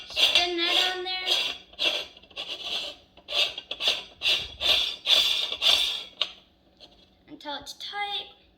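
A metal nut being spun onto a Cabela's meat grinder during assembly, a series of close, quiet, rhythmic rasping scrapes of threads turning, repeated in short strokes with a pause near the end.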